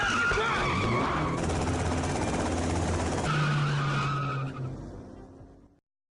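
A car in GTA Vice City skids with squealing tires, then roars off, engine loud and close before fading away at the end, with no speech over it.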